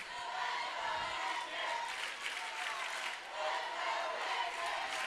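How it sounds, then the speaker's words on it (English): Ray fans in the stands at a high school playoff baseball game cheering, a faint, steady wash of crowd noise and applause heard from a distance. "now you start to hear the Ray fans cheering in the background"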